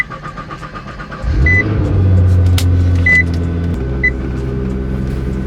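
A Nissan GT-R engine with a failing transmission rumbles and strains loudly with a low, rough drone, joined by a few short electronic beeps.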